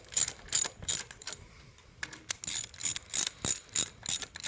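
A ratchet snugs down 15 mm bolts on the 3.7L engine of a 2013 Lincoln MKS during a water pump and radiator job, with quick bursts of sharp close clicking that pause briefly and then resume in a steady series, with no talking.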